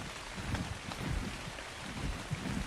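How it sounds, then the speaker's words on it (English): Steady rain in the survival video game Ark Survival Ascended, a continuous soft hiss of falling drops with faint low rumbles underneath, quiet and even throughout with no voices. "This rain causes a problem in the game."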